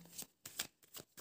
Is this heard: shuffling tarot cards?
yes